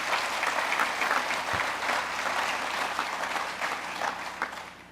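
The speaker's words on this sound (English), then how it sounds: "That's worth applauding." An audience claps steadily for several seconds, dense applause filling the room at an even level before easing slightly toward the end.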